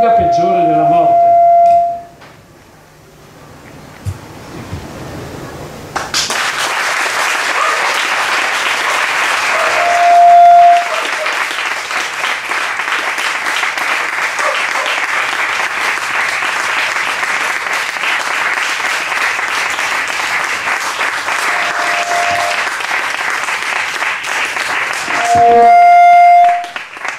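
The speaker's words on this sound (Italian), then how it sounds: "l'applauso va alle Eluana" Long sustained audience applause at an Italian public talk on end-of-life choice, a dense even roar of clapping that continues for over twenty seconds after a brief quiet start, with occasional electronic tones cutting through.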